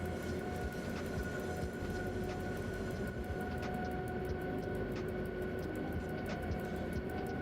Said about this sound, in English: We're driving 144283, an empty freight train